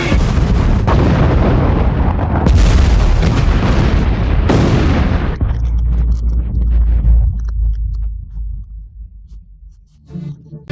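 A massive explosion effect depicting the Chernobyl reactor blast: a loud, sustained roaring rumble with repeated booming bursts that fades into a deep lingering low rumble and thins toward the end.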